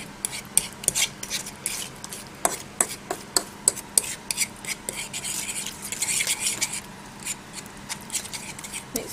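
A utensil stirs an egg mixture for an omelette in a bowl, tapping and scraping in a quick, uneven rhythm of close, crisp clicks with soft swishing in between.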